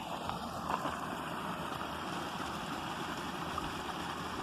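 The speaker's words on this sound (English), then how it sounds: "A little waterfall." A small waterfall on a nature walk gives a faint, steady rushing and gurgling of water that carries on throughout, with no voices.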